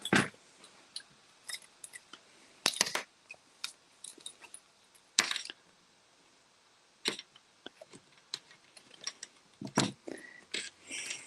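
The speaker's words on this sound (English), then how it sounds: "And I'll grab my scissors." Scissors are picked up and snipped through paper during close-up papercrafting with stamping supplies: a scattered run of sharp, close clicks and cuts, some louder than others, with no talking.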